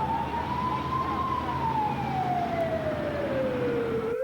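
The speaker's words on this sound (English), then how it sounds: "sound of the siren sends their hearts racing" An emergency siren during the 1998 Avery County and Carter County flooding wails steadily nearby, its pitch slowly rising and then falling in a long sweep over constant traffic rumble.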